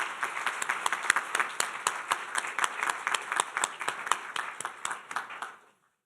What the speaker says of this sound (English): How about one more round of applause for Dr. McNamara?